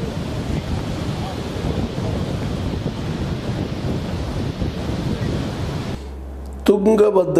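Water roaring out through the broken 19th crest gate of the Tungabhadra dam, a loud, dense, continuous rumbling rush that drops out abruptly near the end as a voice begins speaking.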